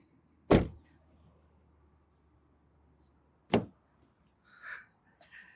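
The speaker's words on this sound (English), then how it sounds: "as I open this door, the electric seat moves back to my driving position" Two sharp, loud thumps of a Jetour VT9 car door about three seconds apart over a quiet background, followed by a brief whirring hum of the electric driver's seat motor moving.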